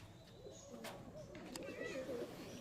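Pigeons cooing in a loft, low rolling coos that repeat at close range and stay fairly quiet, with a few brief sharper sounds over a steady background.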